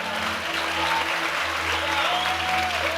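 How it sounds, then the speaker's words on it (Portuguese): A church congregation claps continuously in a full, even wash of applause, with a low sustained musical tone underneath and no talk over it. "Se você crê nisso, você pode aplaudir no seu lugar."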